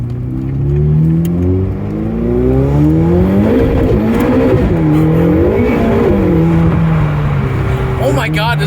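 A Ferrari 488 Pista revs and accelerates hard, its loud exhaust rising and falling in pitch over several gear changes, with a brief tire squeal near the end as the tires lose traction; voices talk over the engine.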